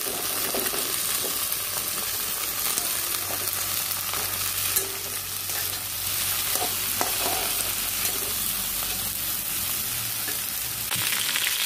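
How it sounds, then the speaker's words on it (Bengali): Malabar spinach and cut potatoes are stirred with dried fish in a frying pan, a continuous close sizzle broken by scraping spatula strokes and occasional clinks, with no talking. "এবার আমি দিয়ে দিচ্ছি পুঁই শাক, আলু কেটে রেখেছি"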